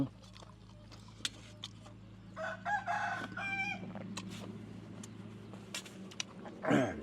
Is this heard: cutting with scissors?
no